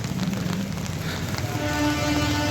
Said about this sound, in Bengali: এখানে বেশ বৃষ্টি হচ্ছে